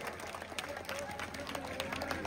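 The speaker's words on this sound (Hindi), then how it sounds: "एक बार जोरदार तालियां बजा के इनका स्वागत करें" An audience at a Hindi-language political gathering claps to welcome a leader, a steady patter of applause with scattered loud claps over crowd noise and some voices.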